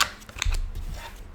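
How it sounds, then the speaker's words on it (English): Brief close riffle of tarot cards being shuffled and drawn, a quick papery flutter followed by a soft slap of a card. "Let's pull the other cards for you."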